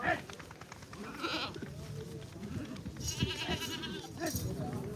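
Goats at the Dhanaula goat market, held every Wednesday, bleat repeatedly in several loud, wavering calls near and at mid-distance, overlapping a crowded hubbub of people talking throughout.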